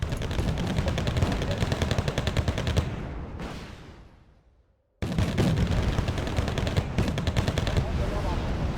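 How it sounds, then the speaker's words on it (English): Sustained rattling gunfire and explosions from Green Jacket infantry units in the wargame Wargame: Red Dragon, set in 1984. The firing runs loud and dense, drops away to near silence for about a second, then resumes just as intensely. "Oh, the green jacket are firing."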